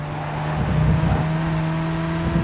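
Race car engine in the Gran Turismo 5 video game, a steady, close, loud engine whine holding near-constant pitch with slight revving fluctuations, no talk.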